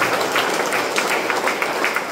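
A church congregation claps together in praise of God, a dense, continuous wash of many hands with a loose rhythmic pulse, loud and close, with no voices standing out.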